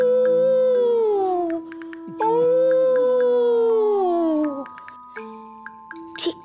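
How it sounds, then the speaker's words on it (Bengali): A dog howls on a pitch-dark, moonless night, giving two long, drawn-out howls that slide downward in pitch, then trailing off into softer whines and short yips, with faint tinkling sounds in the quiet gaps. "দূর থেকে কুকুর কাঁদছে।"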